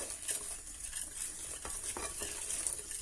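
Whisk stirring pastry cream in a pot as hot milk is added, a steady close scraping and swishing with faint metal clinks, and no voices.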